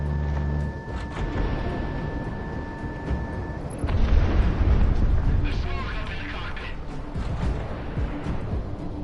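Missile launch and explosions in the combat flight game Project Wingman: a low rumbling roar builds into a dense, sustained blast of booming noise under a steady jet drone, with voices talking throughout.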